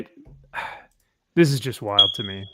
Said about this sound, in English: Oh, someone's smoke alarm going off.